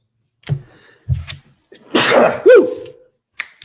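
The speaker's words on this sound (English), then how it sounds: "just in time, I got to sneeze" A couple of breathy inhales build up, then one loud, close sneeze bursts out, trailing off into a short sniff.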